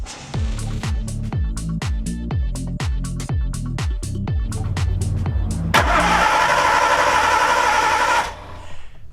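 A Nissan Skyline R32 engine cranks over on the starter for a compression test, giving about a dozen rhythmic, evenly spaced turnover pulses. A loud, steady hiss or whir then runs for a few seconds and cuts off.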